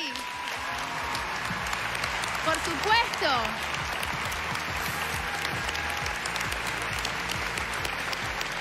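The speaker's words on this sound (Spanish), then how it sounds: "te pedí un aplauso grande para todos ellos de vuelta" A crowd applauds steadily throughout at a live Got Talent Uruguay winner announcement, with a voice speaking briefly over the clapping.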